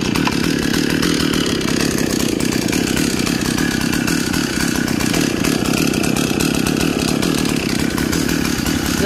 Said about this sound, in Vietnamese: Bây giờ mời cả nhà nghe tiếng máy nổ nha.